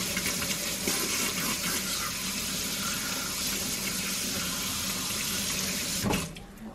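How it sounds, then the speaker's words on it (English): Hands being washed under a running kitchen tap, a steady close rush of water splashing into the sink for several seconds before it cuts off near the end, with no talking. "now I'm gonna go ahead and wash my hands real quick"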